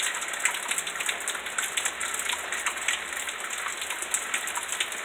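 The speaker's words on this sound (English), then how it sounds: "Oh yeah, it's raining hard." Heavy June rain pours down steadily, a dense, loud hiss of drops hitting surfaces with no pauses, close and continuous throughout, with no voices.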